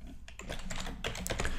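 Password being typed on a computer keyboard during a SQL Clone server installation: a quick, irregular run of close, crisp key clicks with no talking.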